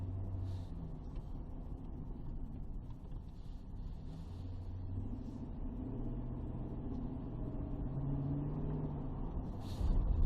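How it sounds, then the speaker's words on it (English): A 2009 GMC Sierra pickup with a 5.3 Vortec V8 is driven and brought to slow stops, giving a steady, close low engine and road rumble that swells slightly near the end. "Gonna make a couple of slow stops, make sure everything seems to be functioning correctly."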